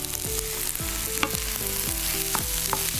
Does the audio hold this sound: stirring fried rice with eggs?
yes